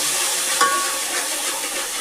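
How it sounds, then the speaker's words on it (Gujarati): Tomatoes and onions frying in a pan are stirred, with a steady, close sizzle that keeps up throughout and one short scrape of the spoon. "આમાં હવે ટમેટા નાખી દીધા અને હવે મિક્સિંગ કરી નાખવાનું."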